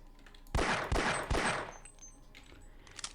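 Gunfire at a crystal in the video game Half-Life, three sharp, loud shots in quick succession with ringing decay, followed by quieter game sounds and no talking.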